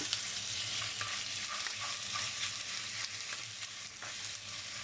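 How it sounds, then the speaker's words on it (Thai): Steady sizzling of chopped chicken stir-frying over medium-high heat in a hot pan, with occasional scrapes and knocks as it is stirred. "ลวนไก่ให้เหลืองนะคะ"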